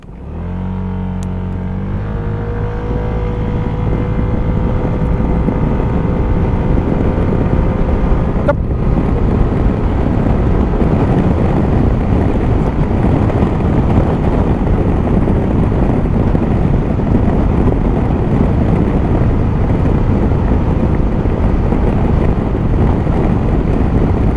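Zontes M310 scooter (2022) cruising on a highway, loud steady roar of wind turbulence buffeting the rider's microphone over the engine drone, continuous throughout after a brief engine note at the start.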